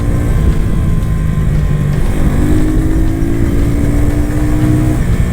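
An FKM Agimat 175 motorcycle accelerates on a test ride, a loud, steady engine drone with its pitch climbing in stages as it revs up, heard up close and alone without talk.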